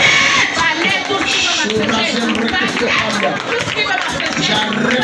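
A church congregation acclaims and cheers loudly throughout, with a dense wash of voices, shouts and whoops and some clapping, continuous and close.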